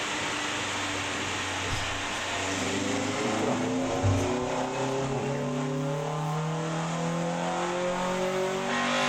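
A Honda VTEC engine revving hard, a loud, sustained howl climbing steadily in pitch as it accelerates, with steady road and wind roar beneath and no talk.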